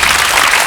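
A brief, dense burst of studio audience applause from a 1995 KBS television talk show, steady and loud throughout with no speech over it.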